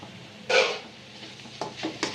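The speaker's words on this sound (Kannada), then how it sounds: "ಹಾಕಿ ಚೆನ್ನಾಗಿ ಮಿಕ್ಸ್ ಮಾಡ್ಕೋಬೇಕು" Grated fresh coconut being stirred into beetroot palya in a pan over a low flame, heard as one firm scraping sweep followed by a few lighter, quieter stirring scrapes.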